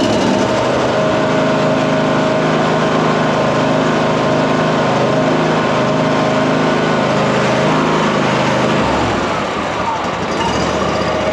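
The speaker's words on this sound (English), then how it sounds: "Putting it into a low idling speed. It's nice, sounds great." A Cub Cadet Ultima ZTS1 46 zero-turn riding lawn mower engine idles loudly and steadily up close at low idle speed, with a slight dip in pitch near the end.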